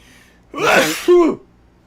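A single close, forceful sneeze with a sharp intake of breath followed by an explosive voiced burst, then quiet.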